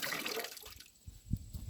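Dirty rinse water drips and splashes from hand-washed laundry held over a wash basin, a soft watery patter that fades, then a few closer drips and splats near the end.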